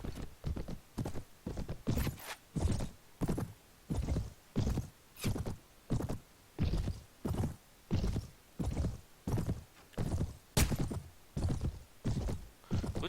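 Horse hooves clip-clop in a steady, even rhythm in the Mount & Blade game, with the Prophesy of Pendor mod, and neighing rises in between, all close and clear with no talk.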